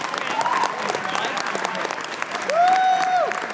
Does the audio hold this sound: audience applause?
yes